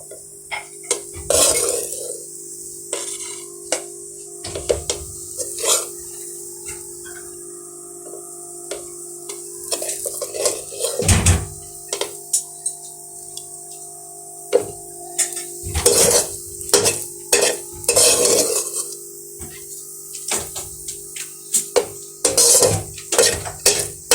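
Chinese fried rice being dished out with utensils, a string of loud metallic clinks and scrapes against a pot and plate, irregular and close, with brief quiet gaps between.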